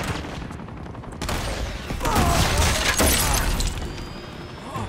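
Enemy gunfire in the video game Uncharted 2: Among Thieves, a loud dense clatter of shots with shattering impacts that swells into a sustained crackling barrage, with no talk.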